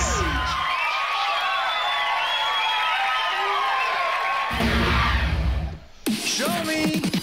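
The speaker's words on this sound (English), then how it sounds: "Crowd roars!" Large live crowd roaring and cheering as an esports grand final begins, a loud sustained wall of shouts and whoops with a brief dip near the end before the roar swells again.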